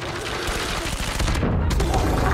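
Dense bursts of automatic gunfire crackle continuously in a Call of Duty Mobile match, loud and close, layered with booming shots and little pause between rounds.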